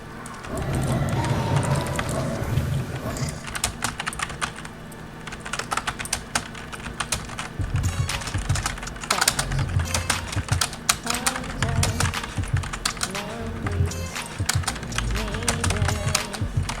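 Fast, continuous clattering on a computer keyboard while playing World of Warcraft, close and loud, with dense irregular bursts of keystrokes over faint game sound in the background.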